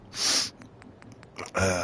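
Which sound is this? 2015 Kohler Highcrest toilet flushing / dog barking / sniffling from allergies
sniffling from allergies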